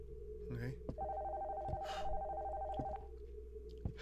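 A telephone rings in the horror video game Nocturnal Visit, a single electronic ring burst at moderate level over a low game hum, with someone speaking around it.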